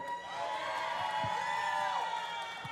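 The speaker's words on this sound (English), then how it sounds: "Now you want to cheer." A wrestling arena crowd cheers and whoops in a loud, steady wash of voices, with scattered shouts rising above the roar throughout.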